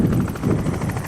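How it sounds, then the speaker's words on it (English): A helicopter taking off close by at an airfield: the rotor thumps in a fast, steady pulse, loud and close, with heavy low rumble and wind-like noise. "the helicopter taking off right behind us"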